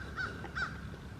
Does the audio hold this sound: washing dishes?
no